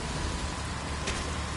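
Steady rain in the Metal Gear Solid video game, a dense even wash of falling drops filling the whole short stretch, loud and continuous with no voices.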